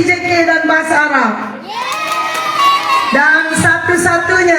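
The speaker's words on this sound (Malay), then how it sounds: "Ya, berikan tepukan." A crowd of students cheers and shouts loudly throughout, with children's voices rising in whoops during a school awards ceremony, dense and close with a brief dip midway.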